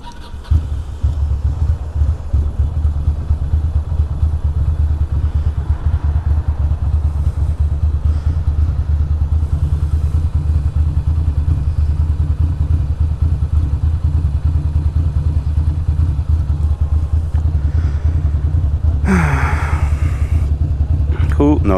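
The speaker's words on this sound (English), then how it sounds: "let's make sure the bike starts." Ducati motorcycle engine thumps at a steady idle for a long stretch, close and loud, with faint street noise and a short clattering burst near the end.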